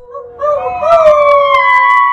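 A dog howls in a long, rising and wavering tone lasting about two seconds, loud and close, with a faint siren-like harmonic quality and no speech.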